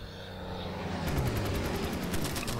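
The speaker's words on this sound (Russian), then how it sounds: "Тут уже вот летит много бомберов." Bomber aircraft engines in the Order of Battle war game, set in the Battle of Britain, drone as a steady dense roar throughout, with a rapid pulsing flutter joining partway through, loud and with no talking.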